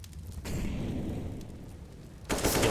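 AK rifle gunfire in a professional CS:GO match on the Inferno map rips out in a sustained burst of rapid shots, pauses briefly, then a second loud burst erupts at the end.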